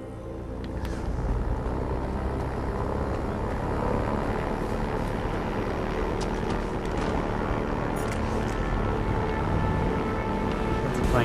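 An airplane engine in the video game Far Cry 4 drones steadily throughout, a constant, dense propeller-like roar that never lets up.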